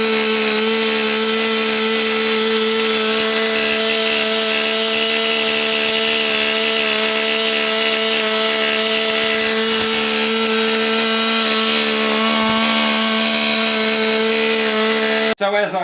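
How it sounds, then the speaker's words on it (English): A chainsaw hollows out a carved wooden violin back, its engine holding a loud, steady droning whine the whole time, close up and unbroken, cutting off abruptly at the very end. "So we're going to do it with the chainsaw again."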